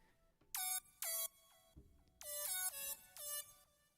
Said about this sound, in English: here I layer it with another synth, which does harmonies.